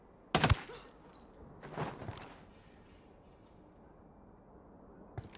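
Gunshots in Ghost Recon Wildlands, a sharp loud shot followed by a couple of softer reports and faint rustling, then near quiet with a light click at the end.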